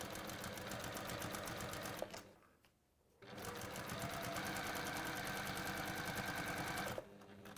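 A sewing machine runs steadily while stitching aligned fabric edges, a fast even mechanical chatter close up, pausing briefly for about a second before resuming.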